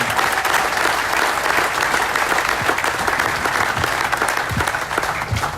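Steady crowd applause fills the grandstand at a sprint car drivers' meeting during the Knoxville Nationals, a dense, continuous patter of many hands, loud and unbroken, with no voice over it.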